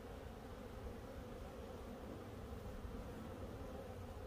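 Bees at a Warre hive fill the air with a dense, continuous buzzing hum, steady and close throughout with no talking.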